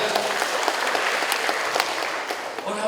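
Steady audience applause at a conference session, a dense wash of many hands clapping throughout a short stretch with no talk over it.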